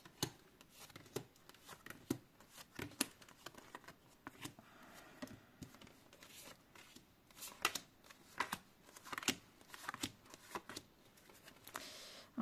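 Tarot cards being shuffled by hand, producing a soft, close series of irregular riffling and rubbing swishes with brief pauses between bursts, heard without talk.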